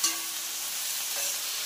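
Leafy greens being stirred in a hot pan while cooking a home-style greens and lentil dal, a soft steady sizzle with light scraping, close and alone with no voices.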